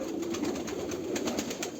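Soft, rolling coos from a Sialkoti pigeon sound close by in a brief, continuous run with no talking.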